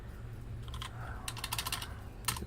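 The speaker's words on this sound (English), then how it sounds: "So you're typing hello." Key presses on a Redragon K591 Parvati thin gaming keyboard, a quick run of light clicky taps in two short bursts over a low background hum.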